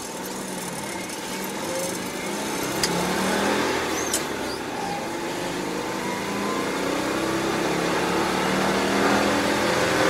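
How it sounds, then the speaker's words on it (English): A Citroen 2CV accelerates while holding its gears, its small engine buzzing steadily and loudly from inside the car, the drone rising gradually in pitch with steady road noise. "If you want a bit of acceleration out of it, you have to hold the gears a bit."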